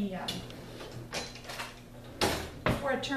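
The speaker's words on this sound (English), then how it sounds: "scrape down my beater" A stand mixer beater is scraped down while mixing chocolate chip cookie dough, giving short metallic scrapes and clunks, two sharper ones near the end, close up over a low steady background.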